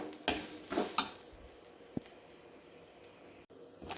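Quiet sizzling of shallots frying in a pan, broken by a few scraping stirs and light clinks of a spoon against metal.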